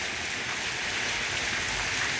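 Heavy rain pours outside a house, a dense, even hiss of water with no breaks and no voices.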